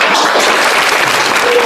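An audience at a Golden Idol stage event claps loudly and steadily, a dense close wash of applause that fills the short moment without a break.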